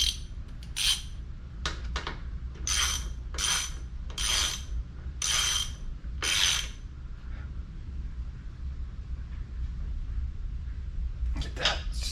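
A socket wrench ratchet clicks in a series of quick bursts while tightening a part on a Mercury 250 Pro XS V8 outboard motor during service, close and fairly loud, with a quiet pause before a final burst.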